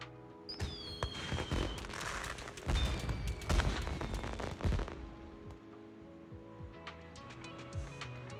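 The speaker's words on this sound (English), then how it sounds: "Sound the fireworks with a bang." Fireworks burst in the video game Zenless Zone Zero at a fishing-season celebration, with a dense run of loud bangs, crackles and whistling rockets for several seconds that then thin out to scattered faint pops.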